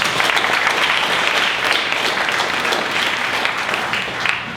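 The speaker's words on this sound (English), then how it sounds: "why don't you give yourselves a round of applause?" An audience at a community council gathering claps in a steady, dense round of applause that fills the room and tapers slightly at the end.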